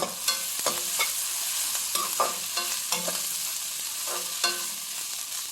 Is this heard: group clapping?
no